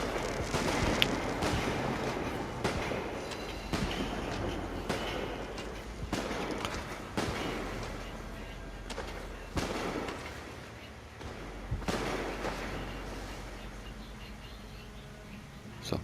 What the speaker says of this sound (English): we're going to go ahead and set off the fireworks